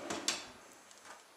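A kitchen drawer slides open with a soft rumble and a brief clatter of utensils inside, faint and close, followed by quiet room tone.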